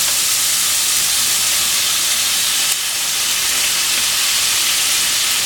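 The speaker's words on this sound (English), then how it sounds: "I'm going to try and break apart my shrimp and throw it in the pan" Shrimp thrown into a hot pan with garlic set off a loud, continuous hissing sizzle that holds steady for several seconds, with only a brief dip partway through.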